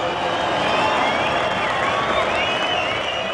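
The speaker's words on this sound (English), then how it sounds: "Give him a nice round of applause." A large stadium crowd at a State of Origin rugby league final between Queensland and New South Wales applauds and cheers for Wally Lewis at the trophy presentation, loud and continuous with a public-address echo and a dense roar underneath.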